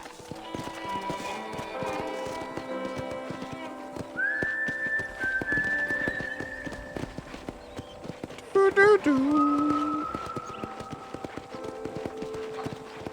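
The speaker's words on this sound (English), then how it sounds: "Look at these fine horses." Hooves clip-clop at an unhurried pace while whistling tones and a horse's whinny ring out over a busy outdoor background, horses on a ranch in the video game Red Dead Redemption.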